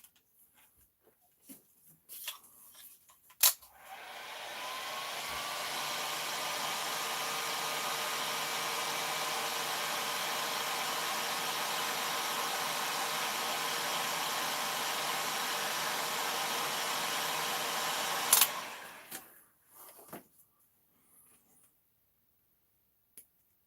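A heat gun or hair dryer warms parts of an Arrma Big Rock RC car, a loud, steady whooshing roar that holds for about fifteen seconds between a few small clicks and handling noises.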